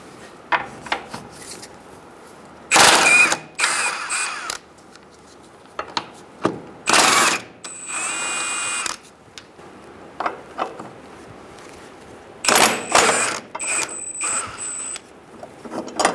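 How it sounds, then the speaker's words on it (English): A ratchet with a 19mm socket backs out bracket bolts during front lower control arm work on a 2014-2018 Subaru Forester, giving intermittent bursts of clicking and metallic clinks between quiet pauses, close up. "We're going to use a 19mm and take out this bracket."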